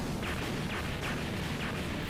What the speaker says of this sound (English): he's gotta get past a lot of cannon fire